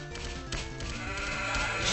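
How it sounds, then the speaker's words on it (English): A sheep bleats in the Warcraft 2 strategy game played through Wargus, a short wavering cry sounding clearly over a constant layer of game background sound, with no talking. "Sheep!"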